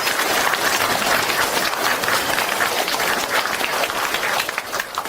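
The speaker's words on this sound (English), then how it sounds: "please stand and give a warm round of applause to welcome Khenpo" Sustained applause from a standing audience welcoming Khenpo Sodargye before a lecture, dense and steady throughout with no talk.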